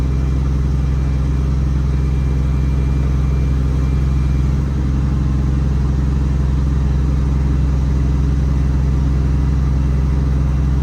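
A 2016 Ford F550 diesel mechanics truck idles low and steady, a loud, even engine drone with a deep rumble that holds throughout while the air compressor builds pressure.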